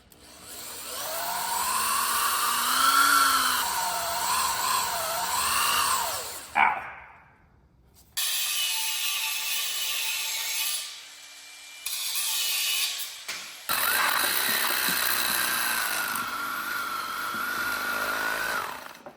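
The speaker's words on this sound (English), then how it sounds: "I've got all the holes drilled out" A power drill boring holes in a part from a 1965 Galaxie 500, with loud whining bursts that rise and fall in pitch, broken by short pauses between holes.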